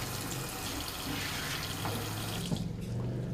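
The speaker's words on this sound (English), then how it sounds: "rinse that off with cold water" Cold tap water runs steadily into a sink while a veterinary bronchoscope is rinsed under it, a continuous close splashing flow with slight shifts near the end.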